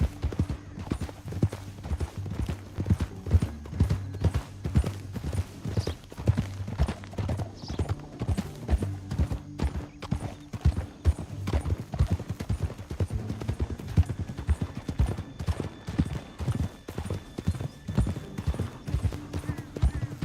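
Horse hooves clip-clop in a steady, rapid rhythm throughout a ride in Red Dead Redemption 2, close and prominent, with the horse's gait continuing unbroken and faint game sounds beneath.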